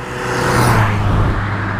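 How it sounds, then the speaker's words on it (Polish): Cars arrive and pass by on a quiet road in rainy weather, a brief swelling whoosh of tyres and engine that peaks and fades within about two seconds. "teraz przyjechały dwa auta"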